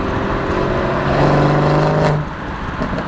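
BMW F30 340i with a B58 engine and aFe full exhaust system, recorded beside a freeway wall: a loud, steady exhaust drone swells and holds for about a second, then drops back to a lower rumble.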